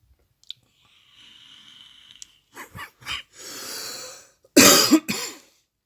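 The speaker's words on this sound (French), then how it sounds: "Je tousse un peu" A person coughs in a few short, harsh bursts that end in a louder, rough cough close to the microphone, following some faint rustling and breathy noises.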